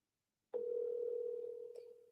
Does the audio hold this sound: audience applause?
no